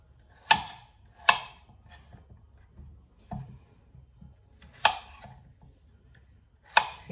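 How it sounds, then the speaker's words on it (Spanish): A knife chops through a potato into large chunks on a cutting board, five sharp, close thuds at uneven intervals with quiet pauses between them. "vamos a empezar cortando la patata"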